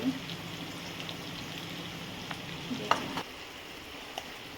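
Cumin seeds and spices (turmeric, salt, red chilli) sizzle in hot oil for a Kathiyawadi whole urad dal curry, a steady crackling fry with a few sharp clinks partway through, heard alone at moderate level.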